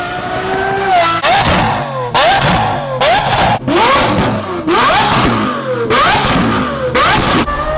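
Lamborghini SVJ supercar engine revving loudly and close, with a series of sharp throttle blips about once a second, each pitch sweep rising and dropping back, no talk over it.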